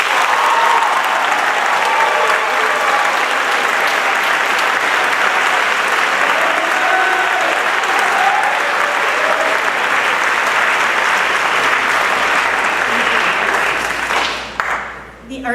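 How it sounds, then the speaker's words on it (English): Sustained applause from an audience at a school art awards ceremony honoring student winners, a dense steady wash of clapping that keeps going for many seconds before tapering off at the end, with faint crowd voices mixed in. "Please applaud them."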